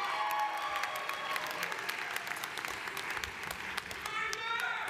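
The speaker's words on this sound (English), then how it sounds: "Let us applaud the accomplishments of the graduating seniors of the Sustainable Resources Management Program." Audience applause at a college commencement ceremony honoring graduating seniors of a Sustainable Resources Management program, a steady mass of clapping throughout with crowd noise, moderately distant in a large venue.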